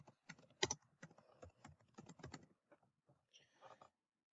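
A name being typed on a computer keyboard in bursts of quick, close key clicks, pausing briefly before a final short cluster of taps, with no voices.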